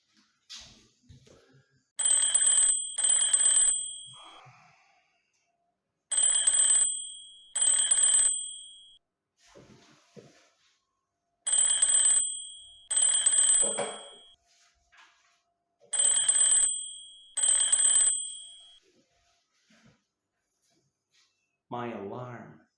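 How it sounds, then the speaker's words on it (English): An alarm clock rings in bright, electronic double bursts, four pairs evenly spaced with short silences between them, loud and close, followed by a brief voice at the end. "My alarm goes off."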